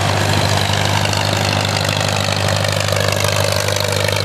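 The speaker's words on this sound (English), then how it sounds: "Really nice Farmall Super A." A Farmall Super A tractor engine idles steadily and loudly at close range, a constant low throb with no pauses, at a tractor show where more tractors are arriving.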